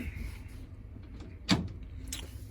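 Door of a 2010 International CE200 school bus opening, a single sharp mechanical clunk and hiss in the middle, heard close up over a steady low idle hum.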